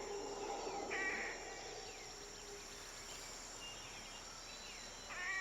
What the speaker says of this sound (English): Sound of the crickets, sound of nature.